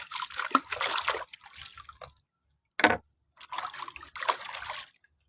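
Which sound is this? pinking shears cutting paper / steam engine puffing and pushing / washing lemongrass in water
washing lemongrass in water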